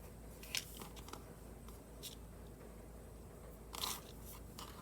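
Scissors snipping green embroidery thread shorter on a handmade heart tag, with a few faint, quiet clips spaced apart against a soft background hiss.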